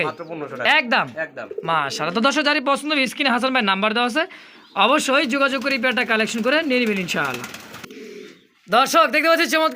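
Belgian-bloodline racing pigeons, including a male, coo close by at a pigeon sale, their soft repeated calls mixed with loud, continuous talk.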